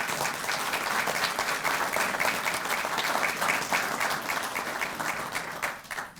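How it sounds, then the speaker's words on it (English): Applause for newly sworn-in officers at a Southfield Police Department promotions and swearing-in ceremony, a dense, sustained crowd clapping at steady volume that tapers off at the end. "So give our newest police officers a round of applause."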